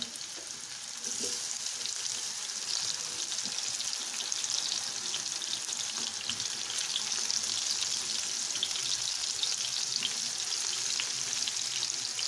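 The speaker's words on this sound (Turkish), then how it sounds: "Ve bunları tavamda kızartıyorum." Steady, loud hissing sizzle of pepper stems frying in a hot lidded grill pan, continuous throughout with faint crackles and no voices.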